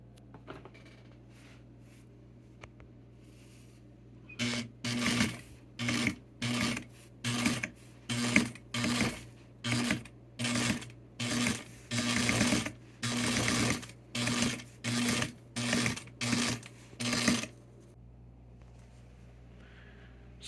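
A sewing machine stitches a second row of topstitching on handmade Barbie pants, running in about a dozen short, even bursts with brief pauses between them. It sounds close and fairly quiet.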